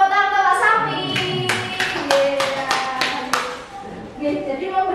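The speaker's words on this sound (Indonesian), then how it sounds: "Tepuk tangan Pak Sami." Clapping from a small classroom or teacher group, a few seconds of scattered hand claps mixed with voices talking.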